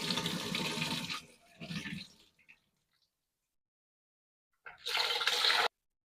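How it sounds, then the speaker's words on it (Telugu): Jowar (sorghum) grains are washed in water, with two bursts of splashing and rinsing, a short pause, then a final loud swish of water near the end. "ఇదిగోండి శుభ్రంగా 2 సార్లు కడిగేసేసుకున్నాను. కడిగేసేసుకొని శుభ్రంగా నానబెట్టేసేసుకుంటున్నానండి."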